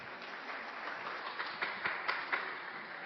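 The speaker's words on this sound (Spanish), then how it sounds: "Un aplauso para Óscar" An audience applauds a speaker being welcomed at a cultural heritage event on popular architecture in Fusagasugá, a moderate, even clapping from a seated crowd with a few sharper individual claps standing out near the end.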